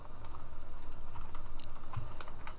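Steady typing on a computer keyboard while Prolog code is entered, a continuous run of close, quick key clicks with no talking.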